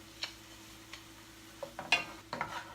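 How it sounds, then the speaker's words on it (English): Beef goulash with seasoning is stirred in a pot, a few soft scrapes and clinks over a faint sizzle, quiet and close. "And now I'm going to stir that all together"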